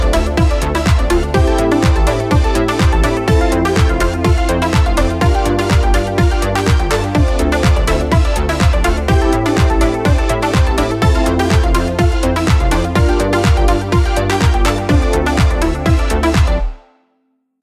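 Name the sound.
demo song with chords, bassline and melody made in Sundog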